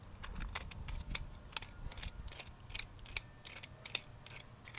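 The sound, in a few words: cutting fiber off a palm tree trunk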